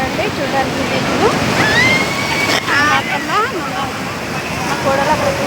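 Rushing water pouring and splashing over a crowd of people, a loud continuous churning roar with excited shouts and voices throughout.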